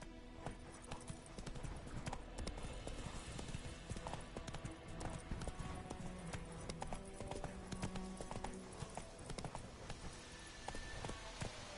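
The horse Roach gallops in the Witcher 3 video game, a rapid, continuous clip-clop of hooves with busy game ambience, steady and moderately loud throughout.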